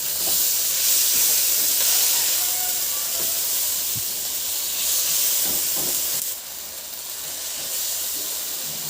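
Tomatoes sauté in a hot pan for ginisang ampalaya, giving a steady loud hiss and sizzle that runs throughout, with a few faint utensil taps and a brief dip in level near the end.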